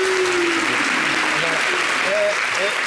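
Applause from a studio audience at a French-language talk show, dense and steady throughout, with faint tonal voices threaded through the noise.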